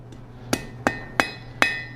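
A blacksmith hammers a hot steel chain link on an anvil: four sharp, ringing metallic strikes land at a steady, unhurried pace, close and loud over a low background hum.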